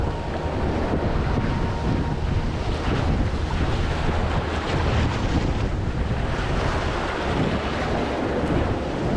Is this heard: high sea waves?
yes